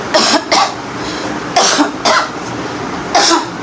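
A person with a cold coughs close up, three quick paired coughing bursts spaced over a few seconds with a faint hum behind them.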